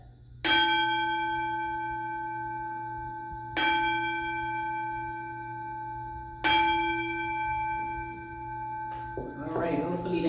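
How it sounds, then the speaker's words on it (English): A singing bell is struck three times, evenly spaced; each strike rings out with a bright, sustained tone that fades slowly before the next, over a low background hum. "Take a deep breath in and out as we hit this bell 3 times"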